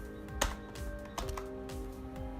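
A single firm keypress on a computer keyboard at a command prompt, one sharp click standing out near the start against a steady low room hum, followed by a fainter second tap.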